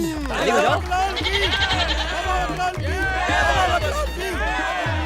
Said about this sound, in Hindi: बकरा भाग गया।